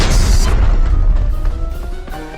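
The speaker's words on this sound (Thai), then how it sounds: "ปาระเบิดสวนกูอีก" A grenade blows up in the shooter game Arena Breakout, a loud close boom with a sharp burst at the start that fades into a rumbling, ringing decay.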